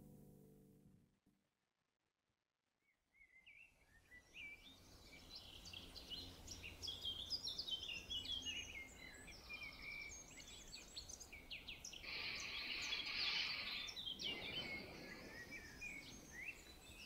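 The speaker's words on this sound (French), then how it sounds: "Des petits oiseaux quand même pour en remettre un peu" Small birds chirping in the game The Town of Light: after a brief near-silence, a steady ambient bed of high, twittering calls builds and continues, faint and layered with insect-like buzzing.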